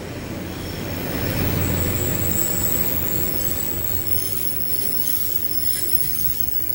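A nine-car DR2800 diesel multiple unit Tze-Chiang express on Taiwan's Yilan line runs steadily, a continuous low rumble of wheels on rail with faint squeal, fairly loud and constant, with no voices.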